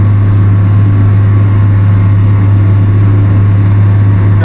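A tractor pulling a deep ripper through a farm field, its engine a steady, loud, low drone with a constant hum, running close and unbroken with no voices.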